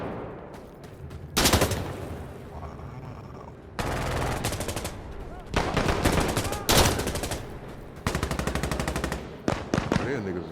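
Automatic rifle fire in Insurgency Sandstorm on Xbox Series X rattles in several loud, close bursts of rapid shots, separated by short lulls, with a player's voice speaking underneath at times.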